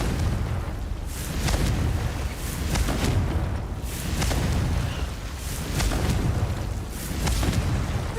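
Blasting-spell explosions in Hogwarts Legacy, a series of deep booming bursts rolling one after another with a continuous rumbling roar underneath and no pauses between them.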